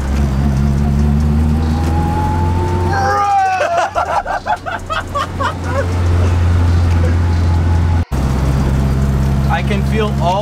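A car fitted with stiff engine mounts drives under load with a rising, high-pitched transmission whine over a deep engine drone, sounded from inside the cabin while people talk.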